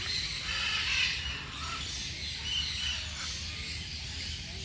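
A large flock of birds calls continuously at a netted sanctuary in Hambantota, a dense, shrill chorus of squawks and chirps heard from some distance, with no talk.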